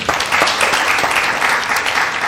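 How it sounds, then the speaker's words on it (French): A studio audience on a French talk show applauds, a brief burst of dense clapping from many hands at full volume. "Applaudissements pour Yelbi."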